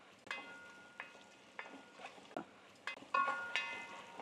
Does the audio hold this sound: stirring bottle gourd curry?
yes